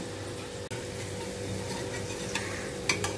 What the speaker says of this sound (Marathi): आता अशाच प्रकारे आपल्याला उरलेले भजी हे फ्राय करायचे आहेत।